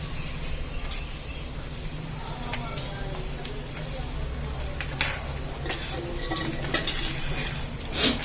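Roasted peanuts tipped into colorful upma in a pan and stirred, with scraping utensil sounds, clinks against the pan and a faint sizzle running steadily underneath a speaking voice.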